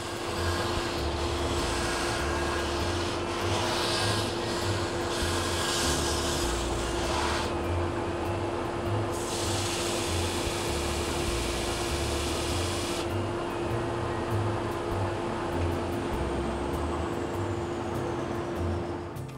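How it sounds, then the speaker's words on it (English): Continuous rough abrasive grinding from a power sander shaping a resin and wood blank, with a steady motor hum and shifting scratchy texture as the surface is worked. "Then rough sand the general shape, revealing the playful pattern of the Thermolite."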